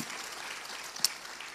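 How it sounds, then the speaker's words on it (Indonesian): A church congregation applauding, a soft, even wash of clapping with one sharp, louder clap near the middle, heard without talk. "Berikan tepuk tangan kita untuk Tuhan kita."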